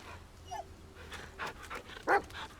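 A dog in the horror video game The Medium pants and lets out soft whimpering sounds in quiet, uneven bursts, fairly faint against low background ambience.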